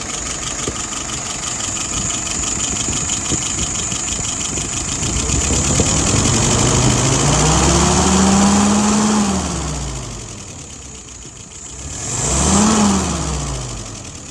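A car engine idles steadily close by after starting, its pitch rising and falling through two brief revs before settling back to a smooth idle, with no voices.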